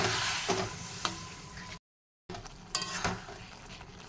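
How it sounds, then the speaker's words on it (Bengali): A splash of water poured into a hot pan of cooked-down spice masala for a dried fish (shutki) curry sets off a loud, broad hiss of sizzling with a few sharp crackles, cut by a brief silent break before the sizzle resumes. "এখন আমি অল্পটুকু জল অ্যাড করবো"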